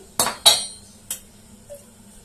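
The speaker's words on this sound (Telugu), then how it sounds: "ముందుగా పొయ్యి మీద ఒక కడాయి పెట్టుకొని" A kadai (wok) set down on a stove: two sharp clanks close together, then a lighter knock and a faint final tap, in a quiet room.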